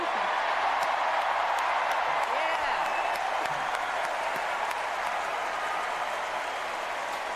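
Sustained crowd applause and cheering at a Democratic National Convention rally, a steady wash of clapping from a large audience that continues without a break and stays loud throughout.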